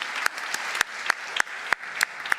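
Sparse, distinct claps ring out at a French awards ceremony honoring women in cybersecurity, a handful of spaced sharp hand claps, moderately near and fairly faint, with no talk over them.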